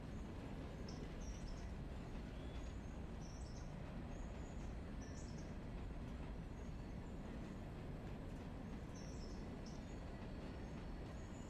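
Train wheels squealing around a curve in the Railroader game: faint, brief high-pitched squeals recur over a steady, low rolling rumble that continues throughout.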